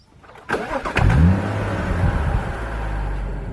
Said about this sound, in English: here we are, driving the F20 BMW 135i